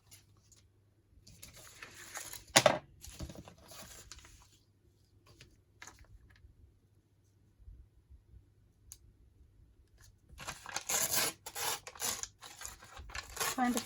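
Scissors snipping and paper rustling while trimming paper for craft tucks and pockets, scattered close clicks and rubbing with quiet gaps, busier toward the end.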